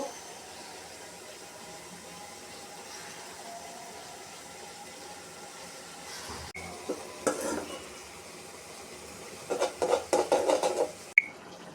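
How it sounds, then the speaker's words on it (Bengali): Ridge gourd frying in oil with salt, turmeric, chili and cumin powder, stirred in a pan: a soft, steady sizzle with scraping strokes that grow louder and more rapid toward the end. "এখন নেড়ে চেড়ে কষিয়ে নিব।"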